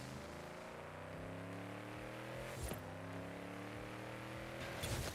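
Parade float built on a Porsche, driving in Forza Horizon 5 with a steady engine hum that shifts pitch as it moves, with a couple of brief louder bumps.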